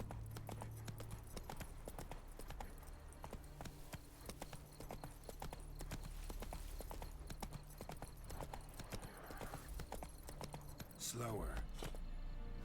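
Horse hooves clip-clop at a steady, brisk rhythm as the horse Roach trots in the video game The Witcher 3, with continuous game ambience underneath and a person talking over it.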